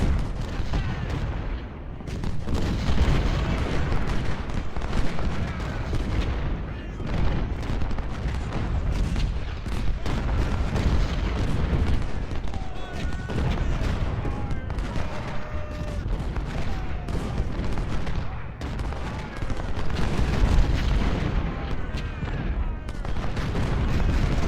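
Cannon and rifle volleys in a Civil War battle strategy game, a dense, continuous rumble of booming artillery and crackling musketry layered over one another, loud throughout with no pauses.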